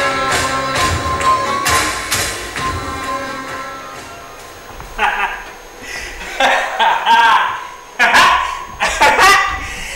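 Dogs bark loudly in repeated sharp bursts, with yips mixed in, and chuckling or voices are heard alongside.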